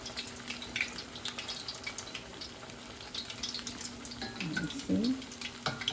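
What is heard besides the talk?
hot water cornbread frying in a pan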